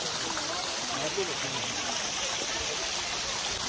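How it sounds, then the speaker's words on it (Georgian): Waterfall of Love in Georgia, a heart-shaped waterfall, rushing in a dense, unbroken roar of falling water that fills the whole scene, steady and loud throughout. "სიყვარულის ჩანჩქერი."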